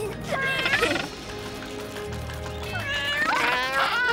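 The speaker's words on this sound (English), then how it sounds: "Fish-loving kitties." Several high, wavering cartoon cat meows rise and fall, with a short pause between bursts, close and fairly loud.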